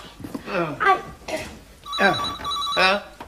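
A telephone rings with a steady electronic trill in two bursts, close and clear, under ongoing conversation between people indoors.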